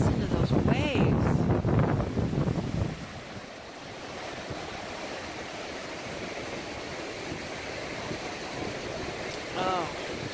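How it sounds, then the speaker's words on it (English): Ocean waves surge and wash onto the shore at Cape Lookout on the Oregon coast, a broad steady roar with wind buffeting the microphone, and voices talk at the start and briefly near the end. "Listen to those waves."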